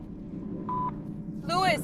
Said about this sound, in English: Leave a message at the tone.